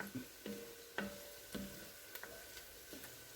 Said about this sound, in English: the onions are starting to sweat